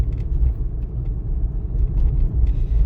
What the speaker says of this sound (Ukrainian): Зараз у мене третя передача і е, швидкість 40 км на годину.